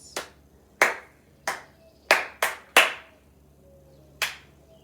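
Single pair of hands clapping a rhythm from a Beethoven violin concerto theme, seven crisp, close claps in an uneven pattern with short gaps, the last one set apart after a pause.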